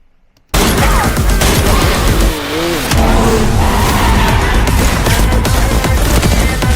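Action movie trailer for Turbo (2024) with a dense, loud mix of car noise, tire squeals and bursts of gunfire, bursting in after a moment of near silence and running continuously with a short dip midway.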